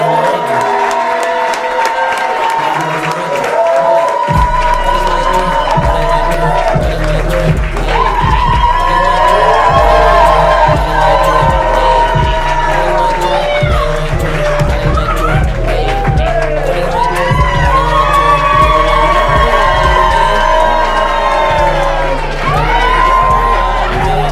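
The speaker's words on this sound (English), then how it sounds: "Settle on your feet. Clap your hands for my dad, Thomas Terrell Jr." A comedy show audience cheers and claps, with steady crowd noise and applause running throughout while someone talks over it.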